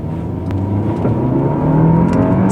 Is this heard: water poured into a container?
no